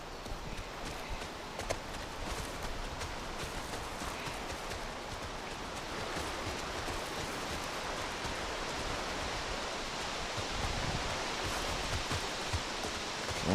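A waterfall rushes in The Last of Us as a broad, steady roar of falling water, swelling slightly louder toward the end, with faint horse hooves plodding underneath.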